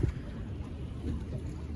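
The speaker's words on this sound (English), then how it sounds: "the wind finally picked up out there, and it's still very windy in here" Steady low wind rumble buffets a fishing boat on cold spring water off the Suffolk coast, a continuous close blustery roar with brief gusts and no voices.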